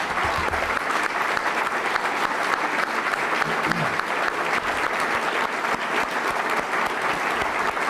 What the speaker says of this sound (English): So I think applause is relevant here.